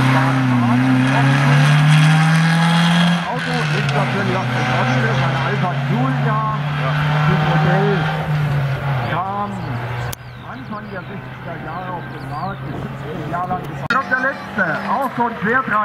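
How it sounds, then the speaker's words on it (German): A BMW 2002 TI historic rally car engine roars and revs as it passes, loud and close then fading, while a commentator talks over it throughout. "die Müllers aus Wolfenbüttel, im BMW 2002 TI, das älteste Auto, was wir heute sehen"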